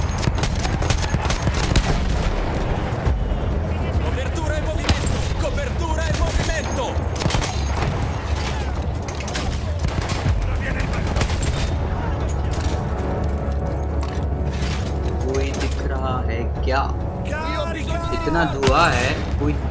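Battlefield 1 gunfire, dense and loud, with repeated rifle shots and booms layered over a constant roar of battle, while someone talks intermittently throughout.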